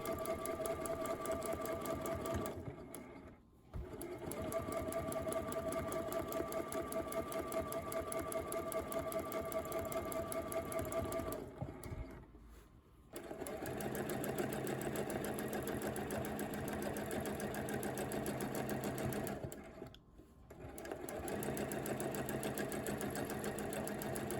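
A sewing machine runs steadily through free motion quilting of a clover pattern, a loud continuous mechanical whir with three brief pauses where it stops and restarts.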